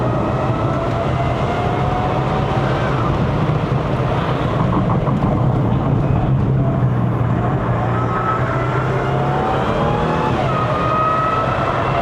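Audi A6 C7 with a 3.0L supercharged V6 and all-wheel drive accelerating uphill on a Genting mountain road in Malaysia, a steady loud engine drone with wind and road noise and no break throughout.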